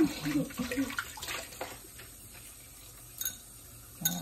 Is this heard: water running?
yes